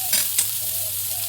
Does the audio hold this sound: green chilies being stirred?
yes